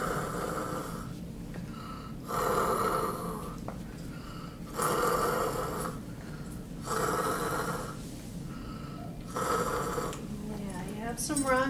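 A patient with rhonchi takes repeated deep breaths during a nursing assessment, each a rough, rattling inhale and exhale roughly every two to three seconds, close and fairly quiet.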